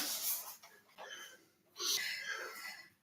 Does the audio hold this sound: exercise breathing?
yes